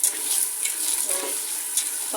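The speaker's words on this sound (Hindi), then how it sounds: "5-6 मिनट के लिए लोबिया को भी अच्छे से इस मसाले में भून लूँगी" Black-eyed peas being fried and stirred in cooked masala, a steady close sizzle with light scraping and stirring, no voices.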